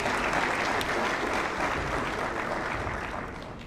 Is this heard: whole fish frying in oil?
no